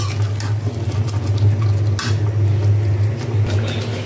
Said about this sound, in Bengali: এখন আমি এটাকে খুব সুন্দরভাবে নাড়াচাড়া করে নিব, নিয়ে একটু ভালো করে কষাবো